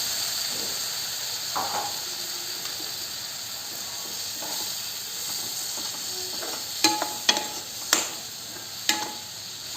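Ground ginger, garlic and coriander masala for a raw banana curry sizzles steadily in a pan after water is added, a soft continuous hiss close by, broken near the end by a few sharp clinks of a stirring spoon.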